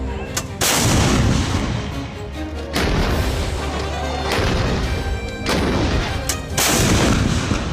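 Bofors artillery guns fire four heavy, booming rounds in turn, each blast loud and close with a long rumbling tail before the next shot.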